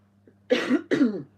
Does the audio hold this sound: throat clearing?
yes